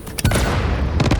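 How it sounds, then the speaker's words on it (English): A cluster bomb goes off in Satisfactory, several rapid booming blasts in quick succession, loud and close, with a second burst of detonations near the end. "explain that that is a cluster bomb"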